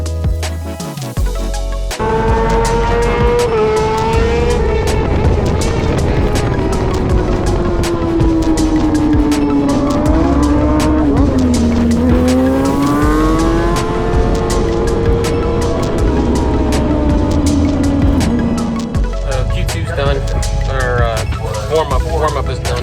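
A race motorcycle on warm-up laps at Blackhawk Farms Raceway on older tires, its engine loud and close, revs climbing and falling through gear changes for most of the run before cutting off.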